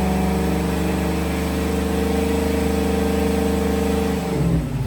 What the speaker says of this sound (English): That old Chevella idle in there